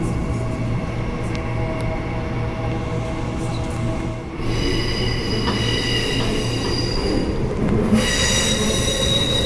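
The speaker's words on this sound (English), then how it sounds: "Three-car train." A three-car suburban train runs along the Fremantle line track, a steady loud rumble with sustained high wheel squeal and whining tones throughout, heard from on board.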